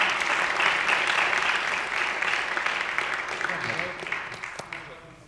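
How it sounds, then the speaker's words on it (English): A congregation at a church men's ministry service applauds Jim Hayes, a big, sustained round of clapping that starts full and slowly tapers off toward the end. "Let's give Jim a big round of applause"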